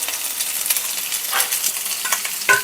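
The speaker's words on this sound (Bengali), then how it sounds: "এবার এগুলোকে খুব ভালো করে একটু নাড়াচাড়া দিয়ে নেব" Chopped onion, capsicum, carrot and green chilli frying in a pan for leftover-rice fried rice, a soft steady sizzle with a few light stirring scrapes, close by and without speech.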